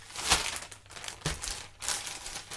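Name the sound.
rustling plastic mailing bags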